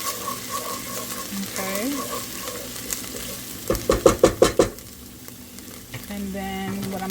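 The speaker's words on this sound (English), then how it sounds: "So do some fresh basil. Saute that up." Fresh basil is stirred in a hot pan with a low sizzle, a run of quick scraping, clattering strokes in the middle, and a brief spoken word.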